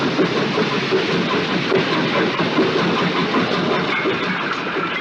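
A train running in the film Horror Express, a steady dense rumble of engine and rolling stock that holds loud and even throughout without a break.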